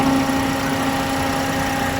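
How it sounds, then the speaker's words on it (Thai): A 2018 Toyota Vios 1.5E idling with the air conditioning running, a smooth steady low engine hum with a constant tonal drone, close and uninterrupted, no talk. "ผมติดเครื่องเปิดแอร์เรียบร้อย ท่านผู้ชมดูได้เลยนะครับความนิ่งความสมูทของเครื่องยนต์นะครับ"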